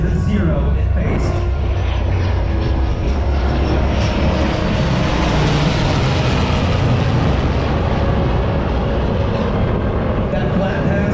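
An F4U Corsair and an F/A-18 jet make a flat-pass flyover together, a loud broadband roar that swells, peaks and slowly fades, close and continuous for the whole stretch.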